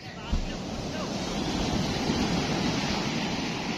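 Ocean surf rushes and crashes nearby in a steady roar as big waves reach far up the shore at a river mouth, mixed with gusty wind buffeting the microphone.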